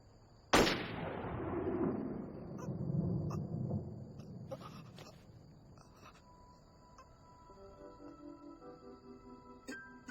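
A single sharp gunshot from an anime cracks out loud and close near the start, then rings off in a long decaying echo, with a steady high insect-like hum and faint clicks continuing afterward.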